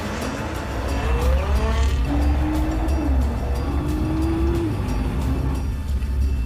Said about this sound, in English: We drive at about 50 to 60 kilometers per hour on rough roads to really jolt the suspension and wheels.